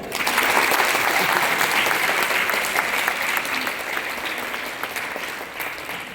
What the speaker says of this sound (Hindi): तो डॉक्टर भीमराव अम्बेडकर से ताली बजाइए